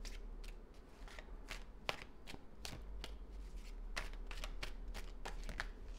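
A deck of cards being shuffled, with a steady run of quick riffling clicks and flutters, close up and without any talk.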